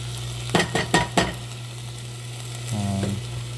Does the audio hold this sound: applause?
no